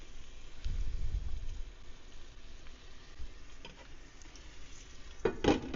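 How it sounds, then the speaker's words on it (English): Beef chorizo sizzles steadily in a pan, a soft continuous frying hiss with a low rumble early on and a few clinks of a utensil toward the end, no talking. "Do you hear that sizzle? That's greatness cooking."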